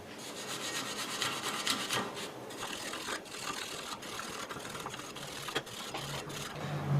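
Wire brush scrubbing a brake hub surface during a Brembo brake replacement on a Chevy Camaro, fairly quiet steady rasping strokes with short pauses, close by and alone.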